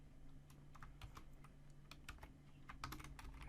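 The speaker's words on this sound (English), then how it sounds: "So I'll just type print" Keys clack on a computer keyboard at a Windows command prompt, a steady run of crisp close taps over a low background hum, with no talking.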